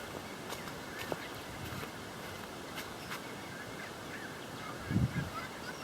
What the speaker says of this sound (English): Listen to that bird life.